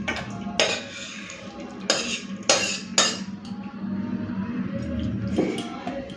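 Potato, pumpkin, eggplant and shrimp curry tipped from a pot into a serving dish, marked by several loud metallic clanks and scrapes of a spoon against the vessels over a soft wet background.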